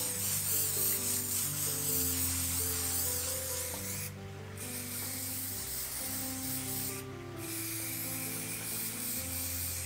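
Varnish hisses from a nearly empty aerosol can in a loud, continuous spray, broken twice by short pauses before the spraying resumes.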